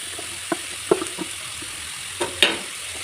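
Chopped ridge gourd and onions frying in a pan under a steady hiss, with a handful of sharp spatula knocks and scrapes against the pan as they are stirred.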